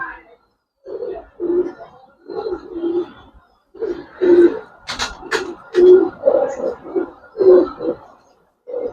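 Pigeons coo close by in repeated low throaty phrases with short pauses between them, and a brief flutter or shuffle partway through. Several fancy coloured breeds are present.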